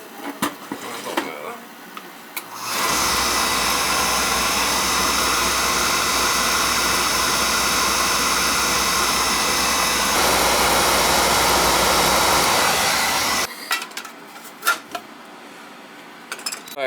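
An old Williamson-McLean oil boiler burner fires up with a sudden loud, steady roaring whoosh that holds for about ten seconds, drops slightly in tone, then cuts off abruptly, with faint clatter before and after.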